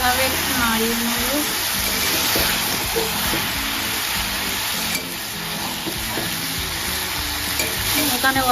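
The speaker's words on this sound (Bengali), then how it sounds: "এভাবে একটু নাড়িয়ে নেব।" Fish head pieces and Malabar spinach stirred in a pan as the curry fries, a steady sizzle with scraping stirs throughout, fairly loud and close.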